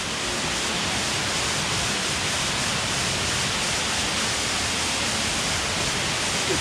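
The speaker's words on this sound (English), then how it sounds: "Some beautiful vines as we slowly make our way in behind the waterfall." A waterfall in Meta, Colombia roars as a constant broadband wash of falling water, steady and enveloping with no breaks, heard from close behind the falls.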